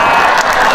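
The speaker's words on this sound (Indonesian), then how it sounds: "Tepuk tangan sekali lagi Bapak dan Ibu" A large audience applauds at a formal gathering, a dense, loud, continuous wash of clapping with no gaps.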